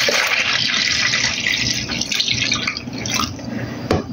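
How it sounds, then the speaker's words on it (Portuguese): 800 ml of lukewarm milk being poured for a tapioca cake, a continuous close liquid splashing and gurgling stream that runs throughout, with a few drips near the end. "Vamos começar aqui com 800 ml de leite."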